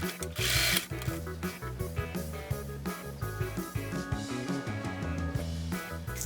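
A sewing machine runs in quick bursts while stitching upholstery fabric for a bunny-themed nursery rocker, its rhythmic mechanical whir close and fairly loud, pausing briefly between runs.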